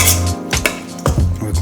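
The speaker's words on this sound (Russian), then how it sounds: "Все перемешиваем." A spoon clatters and scrapes against a bowl while ham salad with cucumbers, cheese and a Dijon mustard and cream dressing is stirred together, giving a few close, brief knocks and scrapes.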